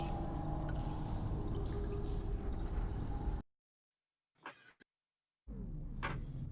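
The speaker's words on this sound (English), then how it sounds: "You hear water." Water trickling and pouring in an underground cavern during a tabletop fantasy game, a steady close wash that cuts out abruptly, then a few faint drips and a second burst of flowing water.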